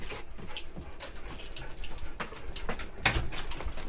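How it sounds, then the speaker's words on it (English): A dog whimpers and yips in short bursts near a window being fitted with dog-resistant plastic for winter, fairly close and steady, with faint background rustling and no clear speech. "You happy? You a happy dog?"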